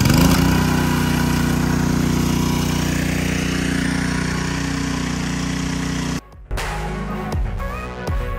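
A gas pressure washer engine powering a CO-Z 20-inch surface cleaner fires up and runs loud and steady with a rough mechanical roar, then briefly cuts out near the end before roaring back.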